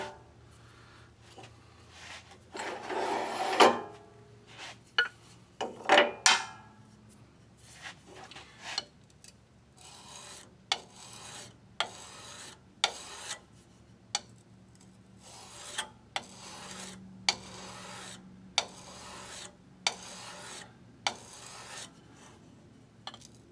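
A skew chisel cuts wood on a lathe while shaping shaving brush parts: repeated scraping, rasping strokes at irregular intervals, several louder bursts early on, over a quiet background hum.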